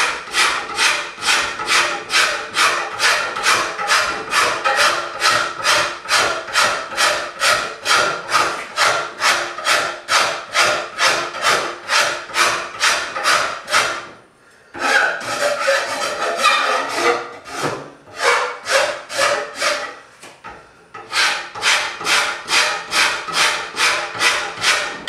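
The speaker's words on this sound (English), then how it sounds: "Right now I'm using the rough side, and it leaves grooves in your wood where the teeth rip out the wood." The rough side of a rasp files a wooden self bow limb clamped in a vise, producing steady, evenly spaced rasping strokes that repeat rapidly. There are a couple of brief pauses, then the strokes resume.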